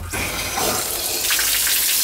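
Water runs hard from a newly replaced outdoor shower with a Speakman shower head at a summer home, a loud steady gush that shifts in tone partway through, with no voices.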